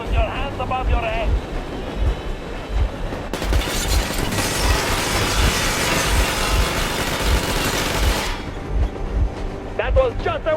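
Heavy machine gun fire rattles in the video game Metro Exodus, a sustained roaring burst of several seconds set against wind and water noise, with a steady low thump beneath it.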